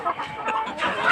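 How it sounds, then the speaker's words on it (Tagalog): Rhode Island and Hubbard heritage chickens cluck in a brief, close burst of overlapping hen and rooster calls on a farm, rising slightly louder toward the end. "Ito yung Rhode Island po natin na tandang mga farm boys."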